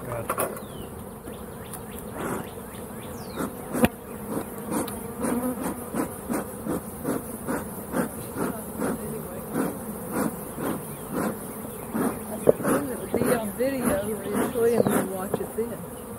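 Bees from a hive being worked with a smoker buzz steadily near and far, with rapid repeated wingbeat pulses and occasional louder passes, continuing for the full stretch.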